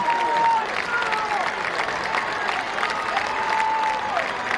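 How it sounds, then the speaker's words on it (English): High school football crowd at Falcon Stadium applauding and cheering from the stands, a moderately distant, steady wash of clapping and crowd noise with a few faint tonal calls rising over it. "Tiger fans are cheering on their guys."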